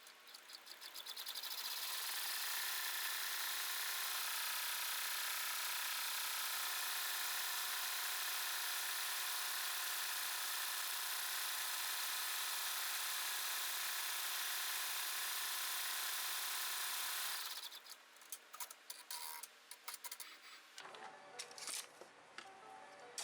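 An embroidery machine works through the final step of an in-the-hoop nail file sleeve in vinyl, giving a loud, steady, high-pitched whirr for most of the stretch before it stops and leaves scattered clicks and handling noises.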